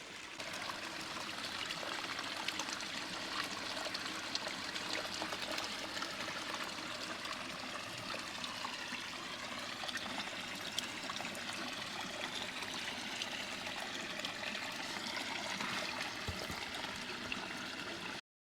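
A garden water feature waterfall runs into a fish pond lined with extra liner, a continuous close trickle and splash that holds steady throughout with no voices.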